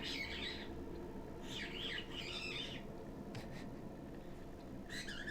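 Bird chirps in the Deadly Premonition video game, several short bursts of calls at moderate level against a steady low background hum, with brief pauses between them.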